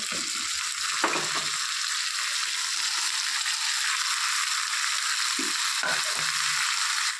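Chopped onion greens, eggplant and green chilli fry in fish oil with a steady, bright sizzle that runs throughout, along with a few low clinks and scrapes of stirring.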